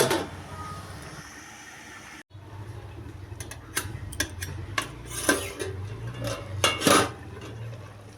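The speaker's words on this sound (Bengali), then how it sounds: "এখন ঢেকে দেব।" Metal pot clatter for a vegetarian Malabar spinach curry: a lid settles onto the cooking pot after a pause, followed by a run of sharp clinks and taps over a low simmering hiss, close by.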